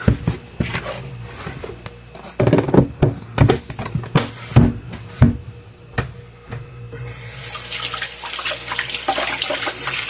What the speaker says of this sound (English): I gotta wash my hands or rinse them off